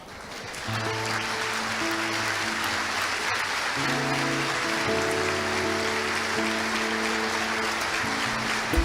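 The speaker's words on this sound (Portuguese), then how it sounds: "São as primeiras palmas, finalizando um culto nesse início de 2022." Congregation applauding at the close of a church service, steady broadband clapping like rain that starts after a brief pause and continues over sustained organ or keyboard chords.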